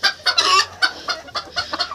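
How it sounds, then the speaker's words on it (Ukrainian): A large rooster clucks in a rapid series of short, close, throaty bursts, with a faint low hum underneath. "Оцей крупненький півничок."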